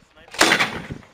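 An MK-19 grenade launcher fires at a target on a military qualification range, giving a single heavy, muffled boom that swells and fades over about a second, heard at moderate distance without speech over it.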